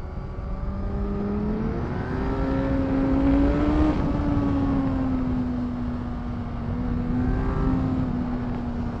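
A 2018 Kawasaki Z1000SX motorcycle engine revs long and hard at high rpm, its loud, steady tone climbing and holding close by without any talk.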